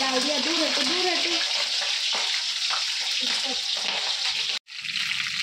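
Something frying in hot oil, a bright crackling sizzle that carries on steadily, with a voice heard talking over it early on and a brief dropout near the end.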